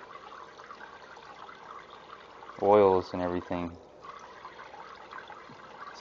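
Raw salmon is lightly rinsed under a steady stream of running tap water, a soft continuous hiss and splash with a person talking briefly over it partway through.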